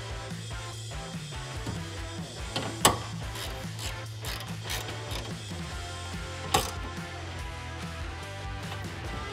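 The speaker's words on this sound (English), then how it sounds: "Once those are slightly snug, you can grab your 13 millimeter ratchet and socket." A 13 mm ratchet and socket tightens nuts on a cold air intake for a 2019-2022 Sierra 6.2L, with rapid repeated ratcheting clicks and two sharper clanks, close up over a steady background hum.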